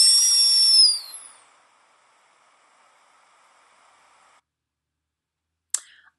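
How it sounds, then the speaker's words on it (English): A tea kettle gives a high, shrill whistle for about a second, then fades into a faint hiss, followed by a brief click near the end. "The tea kettle whistles,"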